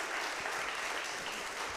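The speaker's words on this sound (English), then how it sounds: "I just would like to give them a little round of applause" Steady applause from a church congregation fills the whole stretch, even and continuous, with no voices over it.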